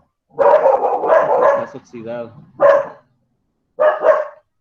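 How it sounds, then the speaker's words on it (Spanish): Dogs bark loudly and close in several quick bursts, with a short whimpering yip between them and a brief pause before a final double bark, while someone speaks a word. "Una disculpa por el sonido de los perros ladridos."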